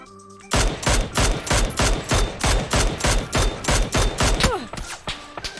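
Automatic rifle gunfire in the PUBG video game, a rapid steady burst of about a dozen loud, evenly spaced shots, close and punchy, trailing off into a short echo.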